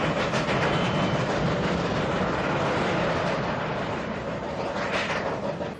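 A Union Limited passenger train runs along the rails with a loud, steady roar and a rhythmic clickety-clack of wheels over the joints, heard close and continuous throughout.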